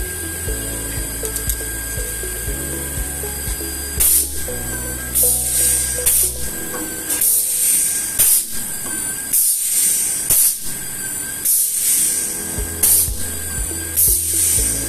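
An Electroweld SP 40P pneumatic rocker-arm spot welder joins 2 mm plus 2 mm steel components, giving repeated sharp bursts of air hiss and spray-like weld noise over a steady machine hum, several cycles close by.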